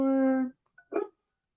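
A pet dog barks indoors: one long, loud, tonal bark or yelp up close, then after a brief pause a shorter, rougher bark, with nothing else in the background.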